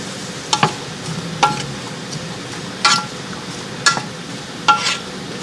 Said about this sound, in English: Oh, now it's starting to sizzle up.